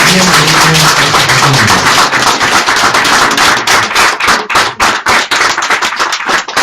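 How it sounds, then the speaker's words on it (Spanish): A church congregation bursts into loud, close applause for welcomed guests, starting with a voice briefly audible before sharp, uneven hand claps that thin out toward the end. "que en nombre de nosotros les den un fuerte aplauso a María"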